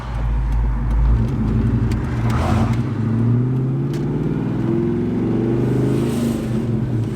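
Ford Mustang with a 2V engine and an off-road X-pipe exhaust revs hard and close by, a deep continuous rumble that rises and falls in pitch under steady acceleration.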